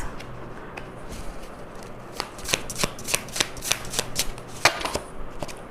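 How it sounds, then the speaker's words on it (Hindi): Tarot cards shuffled and drawn for a reading, a run of crisp riffling flicks and soft paper slaps close by, quickening into a burst of snaps in the middle and ending with a few sharp single flips, no talking. "Now the tarot कार्ड से कार्ड निकालते हैं."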